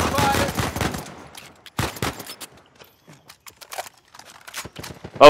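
Gunfire in a multiplayer match of the video game Uncharted 4, with rapid automatic bursts, a heavy volley at the start and further scattered shots and short bursts after pauses.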